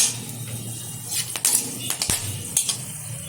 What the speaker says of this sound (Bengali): তেলের মধ্যে দিয়ে দিচ্ছি এখানে দারচিনি, লবঙ্গ, এলাচ। একটু ভালোভাবে নেড়ে চেড়ে নেব